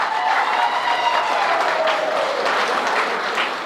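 An audience at a municipal thanksgiving event applauds honoured guests, a dense, even burst of clapping that fills the room, then fades slightly at the end.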